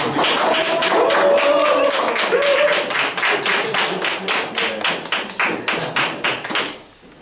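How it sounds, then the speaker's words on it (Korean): A lecture audience at a book launch claps to welcome the speaker, loud and close, a steady patter of many hands that thins into separate claps and fades out at the end. "박수 부탁드립니다."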